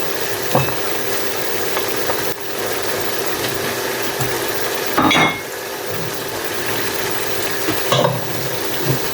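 Meat and previously fried liver are stirred in a hot pan for kilawin, with a steady sizzle under repeated scraping and clattering of a utensil against the pan, sharpest in a few louder bursts; no one speaks.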